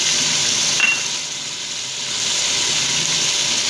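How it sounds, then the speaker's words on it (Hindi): Turnip and meat frying in a pan with red chilli powder, turmeric and salt, a steady close sizzle holding throughout with a brief brighter crackle near the start, no talking. "लाल मिर्च का पाउडर, हल्दी पाउडर, नमक हस्बे ज़रूरत ऐड करके इसको हम 5 मिनट भून लेंगे"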